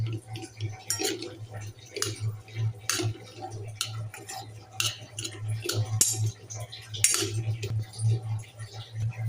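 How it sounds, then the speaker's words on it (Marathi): A spoon mixes corn chaat in a bowl, making scattered light clinks and scrapes against the bowl over a steady low hum, with no talking. "आता हे आपण सारं मिक्स करून घेऊया व्यवस्थित"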